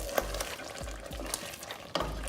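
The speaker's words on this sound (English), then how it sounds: "So our masala has been simmering for about 5 minutes on low flame" Masala simmering on a low flame in a pan, with soft steady bubbling and sizzling broken by a few spoon stirs and scrapes, close and moderately loud.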